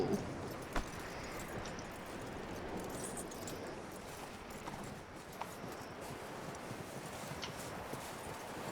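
Horse hooves clip-clop at a steady walking pace in Red Dead Redemption 2, over a noisy ambient background, with faint jingling of tack.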